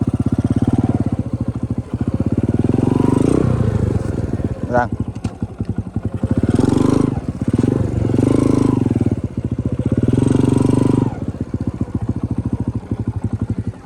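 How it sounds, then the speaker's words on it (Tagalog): A motorcycle engine chugs at idle with rapid, even firing pulses while the bike is moved along a trail, swelling in bursts of revving, with a brief metallic clatter and people talking over it. "Pudlan ni magliso ako motor daan."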